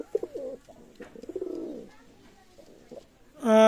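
Pigeons kept as a breeding pair coo close by in soft, rolling bursts, a rising and falling series of throaty notes with short pauses between them.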